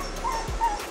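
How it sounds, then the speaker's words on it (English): A dog whines in thin, high, wavering whimpers, two short cries close by over a low background hum, with no talking. "I need to ask Google how to get my dog to stop whining."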